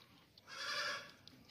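A goat at a livestock sale gives a single close, strained bleat lasting under a second, over faint background noise.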